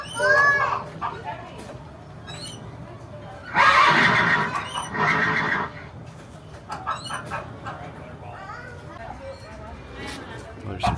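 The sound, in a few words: horses neighing in a stable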